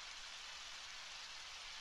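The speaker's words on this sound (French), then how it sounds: "En tout cas, il pleut" Rain falling in the video game Undertale, a soft, even hiss of steady rainfall, faint and continuous with no talk.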